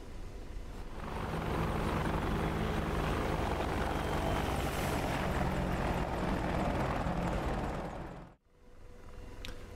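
An AH-64D Apache helicopter flies in the DCS combat simulator, its rotor and turbine roar a loud, steady wash that cuts off abruptly near the end.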